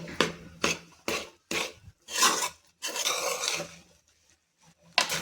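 Food fried in a pan and stirred, with a series of close, rhythmic scraping strokes of a utensil against the pan, separated by short pauses and no talking.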